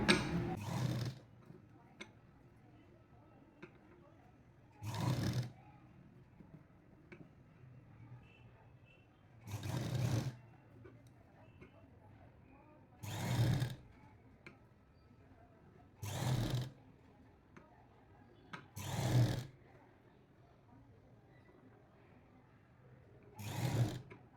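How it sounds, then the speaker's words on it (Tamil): A sewing machine stitches rolled piping made without a cord inside, running in short loud bursts roughly every three to five seconds with quiet pauses between them. "நூலே இல்லாமல் உருட்டு பைப்பிங் ரொம்ப சூப்பராக நம்ம தைச்சிருக்கோம்"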